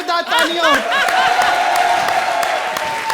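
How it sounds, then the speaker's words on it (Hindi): Studio audience applause and cheering on a comedy show rise beneath a host's excited voice, then carry on as a steady, dense wash of clapping. "हमारी सेलिब्रिटी के लिए जोरदार तालियां।"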